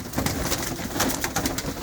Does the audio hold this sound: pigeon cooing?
yes